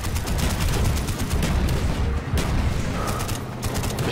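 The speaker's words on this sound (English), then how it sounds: "Machine gun overheats very quickly." Machine gun fire in Call of Duty Black Ops, continuous heavy rattling bursts with booming impacts, loud and nearly unbroken across the whole stretch with a brief dip midway.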